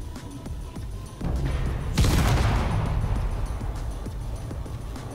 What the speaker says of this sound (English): Loading up the penetrator rounds. Prepare to fire in 3,